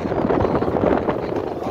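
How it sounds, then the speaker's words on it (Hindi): Strong outdoor wind gusting during bad weather, a loud, rough, continuous rumble and buffeting across the microphone with uneven surges, no speech. "बाकी दोस्तों हवाएं देख कैसी हवा चल रही है"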